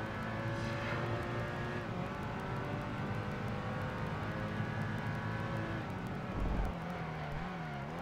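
Race cars in Project Gotham Racing 2, including a Porsche in a sports convertible series, engines droning continuously with shifting revs and a brief low rumble near the end, steady and loud without talk.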